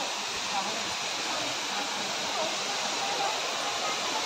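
A waterfall near a hilltop temple roars as a steady, dense rush of falling water, loud and close throughout without pauses, with no clear talk over it.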